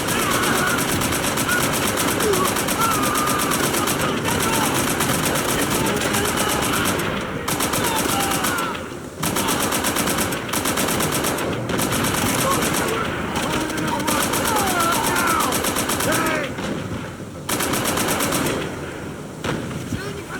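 Sustained machine gun fire in the Call of Duty: World at War campaign, loud continuous rattling bursts with brief gaps over about twenty seconds, mixed with battle noise and shouted voices.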